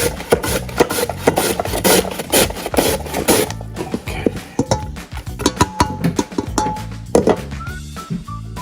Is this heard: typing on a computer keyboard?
no